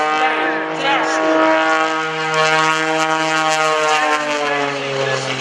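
Aerobatic propeller airplane at an airshow holds full throttle through a torque roll and tail slide, a loud, steady, strongly harmonic engine drone whose pitch wavers slightly as it hangs and falls back.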